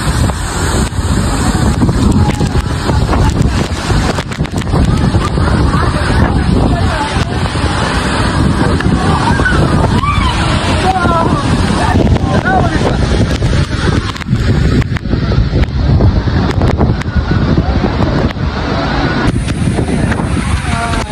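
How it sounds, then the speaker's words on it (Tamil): Water pours steadily down a waterfall in the Kolli Hills, a dense, continuous roar filling the scene, with people talking over it and occasional wind buffeting the microphone. "எப்படி தண்ணி ஊற்றுதுண்டு ஃபால்ஸ்"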